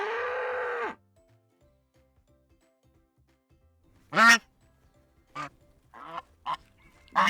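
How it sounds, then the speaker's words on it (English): A bull on a farm gives one loud, drawn-out low moo at the start, then falls quiet; a few short, sharp calls come later. "Bull."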